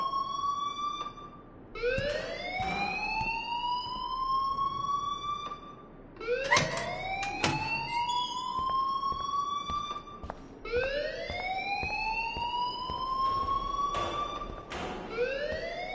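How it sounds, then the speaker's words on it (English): An alarm in the video game Life is Strange wails in rising siren sweeps, each climbing tone repeating about every four seconds, loud and continuous with no talk. "please turn off that alarm since that's your job"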